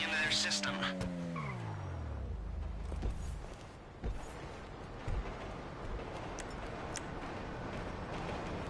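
Car in a heist video game, engine pitch sliding downward with tire squeal and skidding early on, then steady road rumble with scattered knocks, moderately loud.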